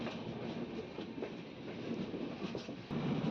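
The Machilipatnam–Bidar Superfast Express rumbles steadily along the track near Vijayawada station, with a dense, continuous roar and faint rhythmic clatter, heard from inside or close by.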